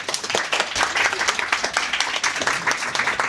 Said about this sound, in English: thank you, round of applause to Radu.